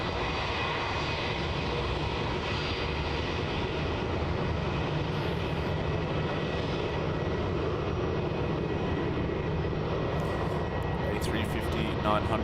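A Cathay Pacific Airbus A350-900 waits at the runway holding point at Melbourne Airport, its jet engines giving a steady broad roar with a faint whine, while a voice talks over it.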